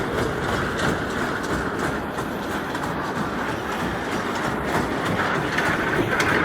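A small amusement park ride train rumbles steadily nearby, its wheels giving a continuous clickety-clack rattle with no talking.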